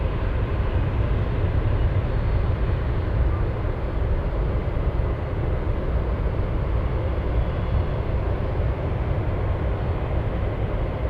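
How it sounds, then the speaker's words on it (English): A Boeing 747 Dreamlifter cargo plane taxiing at Anchorage airport gives a steady, loud, broadband engine rumble and roar that holds evenly throughout, with no talk over it. "the Dreamlifter is moving"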